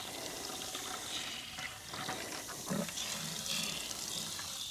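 Water splashes and rinses inside a container during a storm cleanup, a continuous close, moderately loud gurgling wash with a few sloshing surges.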